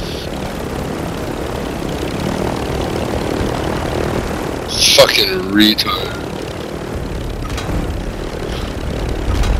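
A helicopter in Call of Duty, a steady rotor drone holding in the background under loud, angry talk, with a brief burst of sharper game noise midway.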